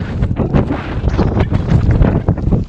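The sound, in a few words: strong wind blowing outdoors in snow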